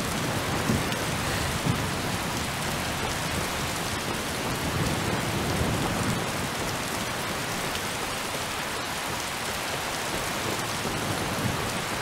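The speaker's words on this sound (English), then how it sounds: "That is some violent storm." A violent rainstorm with thunder in a video game: dense, steady rain hisses loudly and evenly for the whole stretch, with low rumbles rising underneath at moments and no voices.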